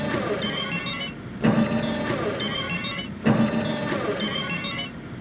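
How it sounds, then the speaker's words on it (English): A steady mechanical whirring hum runs throughout, with two clunking shifts as the motorized mirrors in a Star Wars droid video game restart their turning. "I can hear the mirrors turning up there."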